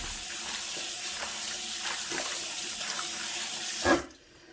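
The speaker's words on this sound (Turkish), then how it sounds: "Patateslerimizin nişastasını almak için arkadaşlar suda birkaç defa yıkıyoruz şöyle." Potatoes are swished and rinsed in water to wash off their starch, a continuous close sloshing and trickling that cuts off abruptly near the end.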